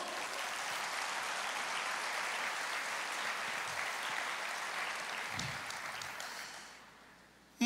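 A church congregation applauds, a dense sustained wash of many hands clapping from a crowd that holds steady and then fades out toward the end.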